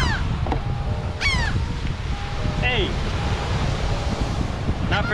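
Wind gusts and rushes steadily across a beach while surf washes in the background, with a few bird calls and brief squeaky cries breaking through the continuous blustery noise.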